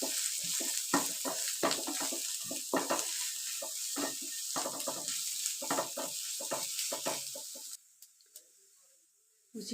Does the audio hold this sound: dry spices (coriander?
yes